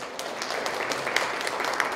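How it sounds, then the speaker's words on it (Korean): Brief applause from the audience at a Rotary Club founding anniversary and charter ceremony, a steady patter of clapping in a hall lasting about two seconds. "박수 부탁드리겠습니다."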